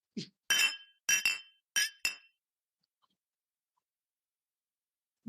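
Glasses clink together for a cheers, a quick series of four or five bright, ringing taps in close succession, then silence, with a brief low thump at the start and end.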